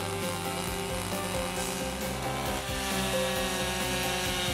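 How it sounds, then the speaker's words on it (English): An ECHO chainsaw drones steadily while cutting a log with the underside of its guide bar, engine buzzing with a rough rhythmic chatter, close up and continuous. "Lower edge sawing is when the underneath of the guide bar is used to cut through the wood."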